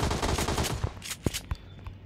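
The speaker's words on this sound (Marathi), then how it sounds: "आता क्लोज फाईट घेऊ, कारण की आता आपल्याजवळ आहे शॉटगन" Gunfire in the BGMI (PUBG Mobile) mobile game during a close-range fight with a shotgun: a dense rattle of shots at the start, then a few sharp separate blasts, with no talking.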